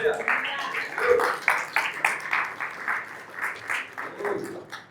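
A church congregation applauds during a seminar, with irregular bursts of clapping mixed with voices and cheering that swell and fade in waves, moderately loud.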